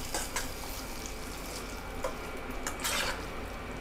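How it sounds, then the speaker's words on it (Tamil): A spoon stirs a tempering of ginger and curry leaves into curd semiya, giving soft, wet scraping and occasional light clinks against the bowl, quiet and close. "இந்த தாளிப்புலாம் நல்லா கலக்கிற மாதிரி கலந்து விட்டுக்கலாம்"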